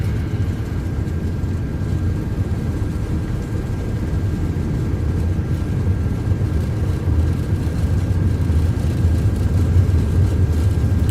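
Airbus A330-300 engines spooling at takeoff thrust in the MSFS 2024 flight simulator, a steady, loud, dense roar that holds without a break and swells slightly toward the end.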